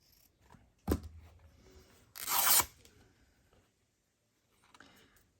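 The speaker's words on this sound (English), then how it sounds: "I don't know if I can rip the silk" Silk fabric torn by hand in two rips, a brief sharp one followed by a longer, louder tearing rasp, with faint rustling handling around them and no speech.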